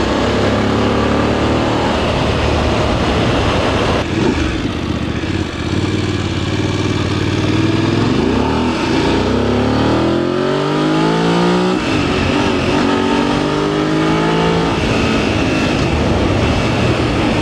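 A VOGE DSX 900 motorcycle engine in sports mode revs hard and pulls through the gears, loud and close, its pitch sweeping up repeatedly as it accelerates with wind noise behind.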